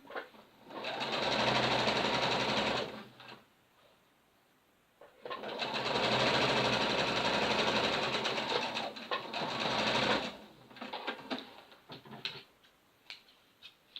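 A sewing machine stitches a pinafore dress seam in two long, loud, whirring runs separated by a quiet pause, then short bursts of stitching and clicks at the end.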